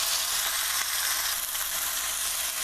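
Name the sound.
flat iron steak browning in a pan over high flame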